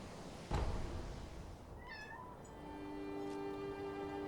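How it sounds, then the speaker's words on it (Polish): A house cat gives a few drawn-out meows close by, over a steady hum of a PS4 game running in the background, with a sharp bump just before the first meow. "Przyszedł do nas kotek."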